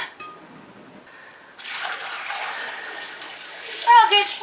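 Vinegar is poured into a jar of onions for pickling. After a quiet start, a steady close splashing pour runs for several seconds and rises briefly near the end.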